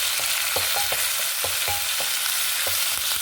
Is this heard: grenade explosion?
no